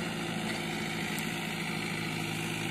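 Ace 450 DI tractor, a 50-horsepower 2015 model, idles steadily with a constant low diesel rumble and vibration, close and alone for the whole stretch.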